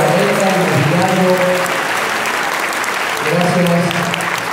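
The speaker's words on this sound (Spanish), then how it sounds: "un aplauso a Farmacia Herrera" Audience applause for a sponsor, Farmacia Herrera, at a Rotary charity event, loud continuous clapping from a crowd with voices speaking over it at the start and end.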